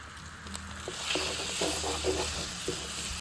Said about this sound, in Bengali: মাছগুলো এবার কড়াইতে দিয়ে দিচ্ছি